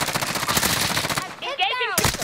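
Rapid automatic gunfire in the video game Call of Duty: Modern Warfare, loud and close, bursts that break off briefly and then resume, with a voice shouting over the shooting.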